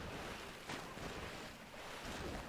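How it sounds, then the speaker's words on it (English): A splash of a character leaping into water in the video game BloodRayne, a brief broad whoosh of water over a steady surf-like wash of ambient game sound, with a second softer splash later. "just jumped into the water"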